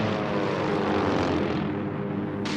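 Engines of a World War II B-17 bomber in flight drone in a steady, loud propeller roar with a deep rumbling hum underneath, continuous and unbroken with no voices.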